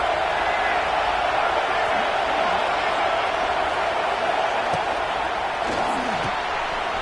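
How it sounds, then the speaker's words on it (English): Steady roar of a football stadium crowd during a college game, a dense continuous wash of voices holding at even loudness throughout, with faint scattered shouts and no distinct commentary on top. "This crowd trying to make life miserable for this offense."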